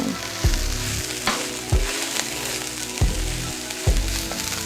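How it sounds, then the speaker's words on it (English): Cauliflower rice hits a hot pan and sizzles loudly and steadily, with several sharp scraping stirs of a utensil recurring about once a second over the constant frying hiss; no voices. "Now I'm gonna add my cauliflower rice."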